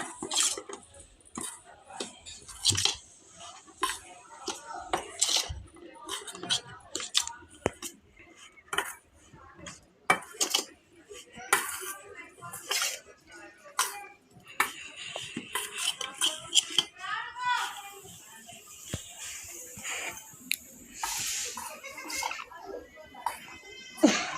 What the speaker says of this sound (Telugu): బాగా కలుపుకోవాలి ఇంకా అన్నీ ఉప్పు కారం మెంతులు ఆవాల పొడి